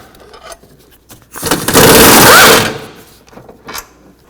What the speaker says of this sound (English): Take these two bolts out, use a 15mm socket.